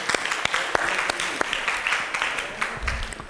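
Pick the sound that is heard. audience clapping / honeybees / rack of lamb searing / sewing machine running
audience clapping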